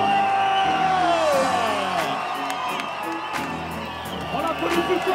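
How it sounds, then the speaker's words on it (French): Crowd cheering, whooping and yelling at a ski race event in Val d'Isère, a loud continuous roar of voices with whistles and a sweeping whoop, an announcer talking over it throughout. "vous criez plus fort, Baptiste."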